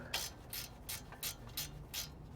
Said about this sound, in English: Put our new nut on, tighten it down.